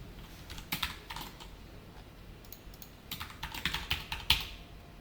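Computer keyboard typing in a code editor, with short bursts of close, crisp key clicks separated by a quiet pause and no talking.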